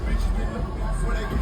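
Nightlife crowd on a busy Juneteenth weekend Friday night in downtown Monroe, Louisiana: a steady, dense babble of many overlapping voices with no distinct words, continuous and fairly loud throughout.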